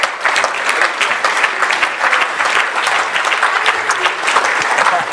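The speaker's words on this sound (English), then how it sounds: "Let's give Tara a big round of applause" An audience at a company's annual members' meeting gives a round of applause, steady, full clapping from a sizable crowd that stays loud and even throughout.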